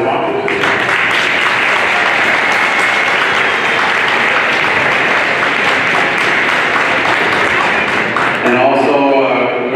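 Loud, close crowd applause for sponsors at a senior women's AA finals basketball game in a school gym, dense clapping that continues as a voice begins speaking near the end.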